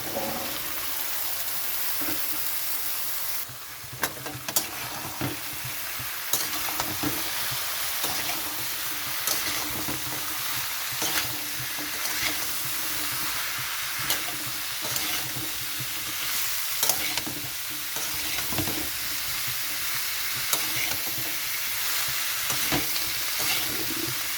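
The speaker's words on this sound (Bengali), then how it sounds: "তো কেটে রাখা মানকচুটা দিয়ে দিচ্ছি মশলার মধ্যে" Cut giant taro pieces frying in spice paste, a continuous sizzle broken by repeated scraping and clattering stirs of a spoon against the pan, close and fairly loud.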